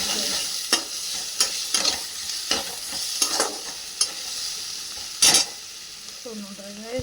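Food fries in a pan under a steady hiss, and a spatula taps and scrapes against the pan at irregular intervals, followed by one louder clatter.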